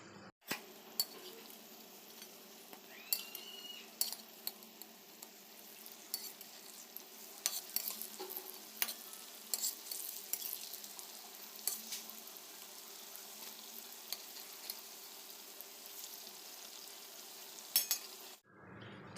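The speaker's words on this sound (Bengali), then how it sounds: "তো আমার 1 পিঠ ভাজা হয়ে গেছে। এবার এগুলোকে উল্টে দেবো।" Banana kofta balls frying in a wok of hot oil, a steady soft sizzle running throughout with occasional clinks and scrapes of a utensil as they are turned, close and moderately quiet, no talking.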